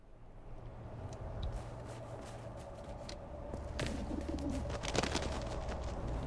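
Midnight snow pigeons in a video game coo softly and repeatedly over a steady low ambient hum, fairly faint and distant, with a brief sharper rustle partway through and no speech.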